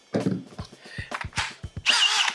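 A Milwaukee cordless hammer drill whirs in short bursts, stopping and starting several times, then runs steadily louder near the end.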